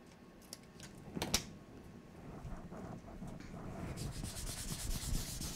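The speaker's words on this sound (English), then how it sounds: "Just going to rub over the back." Rubbing over the back of a paper scrapbook piece at a crafting table, a soft, continuous scratchy friction of hand on paper that grows slightly louder toward the end, with one brief sharper tap early on.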